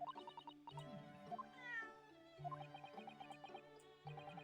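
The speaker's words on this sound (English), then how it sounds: "Meow. Cat. Oh, hello, cat." A cat meows several times in The Great Ace Attorney Chronicles, the clear meows rising over light, tinkling game music with no talk.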